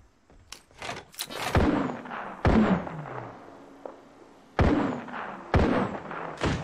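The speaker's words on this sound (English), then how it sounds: "Shots fired at me." Gunfire in the Apex Legends video game, sharp loud shots in quick bursts with short gaps, each ringing out with a booming tail, close and separate from any speech.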